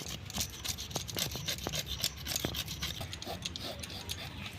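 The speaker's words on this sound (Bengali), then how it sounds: "ছুরি নিয়ে নিয়েছি, আর এইভাবে ভালোভাবে আঁশগুলো ছাড়িয়ে নেব।" A knife scraping scales off a whole fish, rapid rough rasping strokes up close, repeated in quick uneven bursts with sharp clicks of the blade, no talking.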